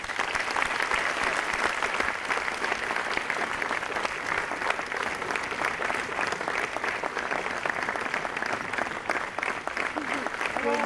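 At a Sayaji Ratna Award ceremony honouring Ratan Tata, a large hall audience claps in a continuous, even roar of applause that holds at full volume throughout without dropping off.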